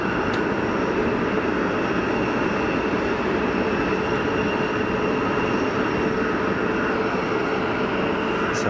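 EasyJet airliners taxiing at Geneva Airport on a hot day, a steady, loud broadband jet roar with a constant whine, unbroken throughout.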